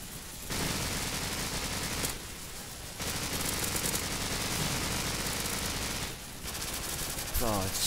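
Sustained automatic machine gun fire from an MG in Call of Duty 4 zombie mode, loud continuous bursts broken by a few short pauses, with a brief voice near the end.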